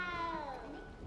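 A small cat meows in the Hogwarts Legacy video game, a drawn-out whining cry heard close and fairly faint over a background of music.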